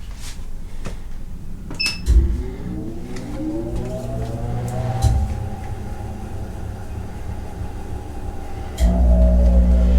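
A Katool KT-B760 tire balancer spins up a tire on its rim, a low mechanical whir with rising harmonic tones that climbs steadily, punctuated by clunks, then drops into a louder steady rumble near the end.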